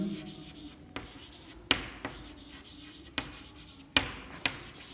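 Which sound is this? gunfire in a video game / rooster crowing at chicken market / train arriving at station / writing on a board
writing on a board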